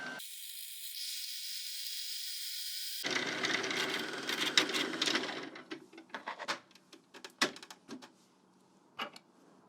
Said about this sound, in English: letting it whir away and wind up the whole bobbin